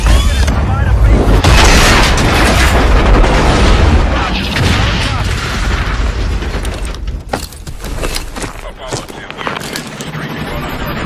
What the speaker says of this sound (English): Coming in hot. Gonna be a rough landing. Reverse thrusting.